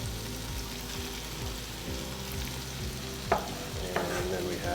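White and red onions hit a hot pan and sizzle steadily, a close, continuous crackle with a faint low hum beneath and a couple of brief stirring clicks toward the end.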